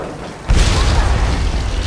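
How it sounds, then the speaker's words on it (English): A sudden deep thunder boom in the Tomb Raider video game cuts in loudly and rolls on as a sustained, dense rumble. "Is that lightning?"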